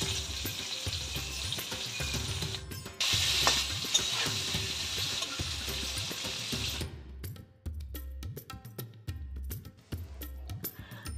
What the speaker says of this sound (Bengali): এবারে দেব খুব সামান্য পরিমাণ মতো লবণ আর হলুদ পাউডার দিয়ে করলাটাকে ভেজে তুলে নেব।